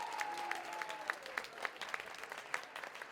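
Audience applause at a college talent show in Terrebonne, scattered, fairly distant claps with distinct individual hand hits and a faint sustained tone underneath.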